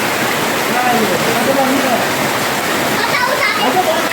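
Heavy monsoon rain in Savar Kundla pours off a rooftop terrace in a steady, loud broadband rush of falling and splashing water, with voices talking over it.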